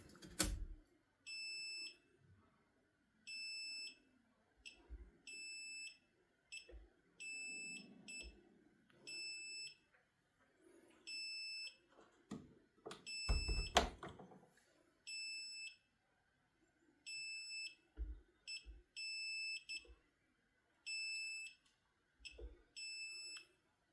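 A solar inverter fault alarm, sounding on a low battery, chirps in a regular repeating pattern of short high beeps, interrupted by a few louder knocks and handling clatter in a quiet room.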